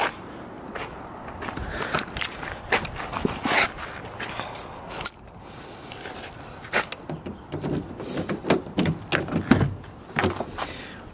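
Keys, door handles and latches working on a 2001 Pontiac Aztek, a series of close clicks, clunks and rattles with footsteps in between, fairly quiet and with no talking.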